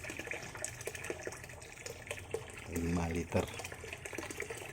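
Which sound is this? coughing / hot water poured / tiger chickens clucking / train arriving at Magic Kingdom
hot water poured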